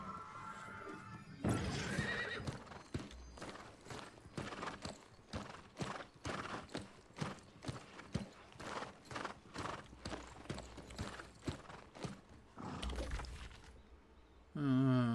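Video game horse: hooves clip-clop in a quick, steady rhythm, bracketed by whinnies at the start and end.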